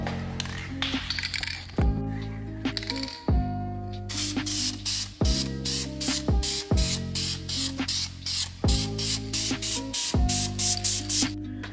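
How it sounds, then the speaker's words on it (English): Clear coat sprayed from an aerosol can over brake calipers painted blue. Loud hissing bursts alternate with short pauses and a rattling ball clicks in the can, close to the microphone and with no talking. "last but not least, we're gonna apply our clear coat"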